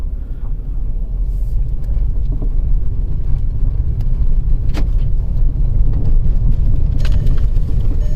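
A 2007 Volkswagen GTI driving with its steering wheel turned, giving a steady low road and engine rumble that stays loud and continuous throughout, with a few brief higher clicks over the drone.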